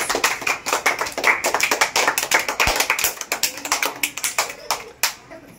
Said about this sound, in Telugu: claps for Kranti